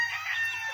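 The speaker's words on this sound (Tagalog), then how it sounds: "sa kulungan ng aking mga manok" Chickens cluck and call softly in the background from their coop, a faint continuous farmyard chatter with no voices.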